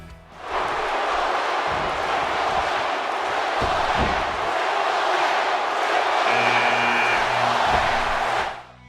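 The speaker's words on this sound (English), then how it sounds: "you can actually hear them chanting for the next superstar before they've even been revealed" Crowd roar and chanting from a WWE 2K17 video game during the Royal Rumble countdown, a dense, steady wall of arena voices filling the whole stretch without letting up, with rhythmic swells toward the end.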